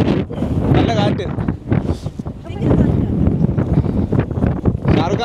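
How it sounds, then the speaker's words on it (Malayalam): Strong wind on an outing in the Peak District near Chatsworth House, buffeting the microphone in loud, roaring gusts that rise and fall, while people talk over it. "നല്ല കാറ്റ്."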